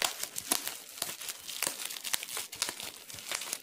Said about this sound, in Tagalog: Yan, nakabubble wrap pa siya guys.